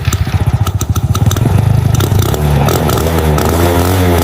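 A vintage moped engine after a cold start, idling with a loud, close, pulsing putter that steadies into an even buzzing drone, with light mechanical clatter and no talking.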